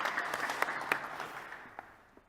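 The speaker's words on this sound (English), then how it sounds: "So give a warm applause to our panelists" Applause for panelists at an AI economics discussion, a short burst of clapping from a seated audience that thins out and fades, leaving scattered individual claps trailing off at the close.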